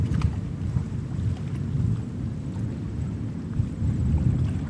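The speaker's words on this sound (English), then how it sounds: "Here we have another Alaska Airlines flight, taxiing to runway 31 left." An Alaska Airlines jet taxis at JFK airport toward runway 31 left, heard as a continuous low rumbling engine drone mixed with wind buffeting on the microphone, steady and fairly loud.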